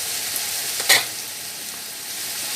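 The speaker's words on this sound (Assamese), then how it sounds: "এতিয়া মই মাংসখিনি ফ্ৰাই কৰি ল'ম।" Meat fries in hot oil in a kadai wok, a soft, steady sizzle with one brief louder stir or clatter partway through.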